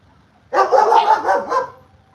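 A working dog barks during obedience training, a quick burst of several sharp barks in close succession, loud and near, with no talking over it.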